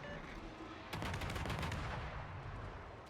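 Secondary guns of the battleship Schlieffen opening fire in a naval combat video game, a dense burst of rapid overlapping gunfire over a steady loud rumble of engine and sea noise.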